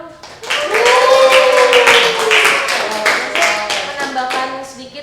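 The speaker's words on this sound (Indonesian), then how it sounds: "Jadi tepuk tangan lagi dong." Clapping from a classroom audience during a Japanese-language microteaching session, rising to a steady, fairly loud patter for several seconds, mixed with voices and harmonic tones that suggest people talking or calling out over it.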